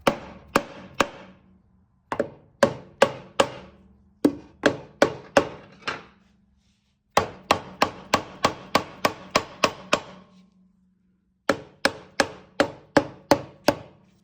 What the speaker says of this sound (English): gonna give her a few whacks here, the old dead blow